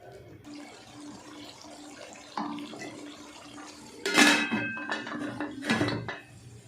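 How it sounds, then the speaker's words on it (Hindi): A lid goes onto a cooking pot of potato and eggplant curry, with metallic clanks and clatters in two bursts over a low kitchen background. "अब मैं इसको ढक्कन लगा दूंगी और 5 मिनट के बाद इसको देखते हैं।"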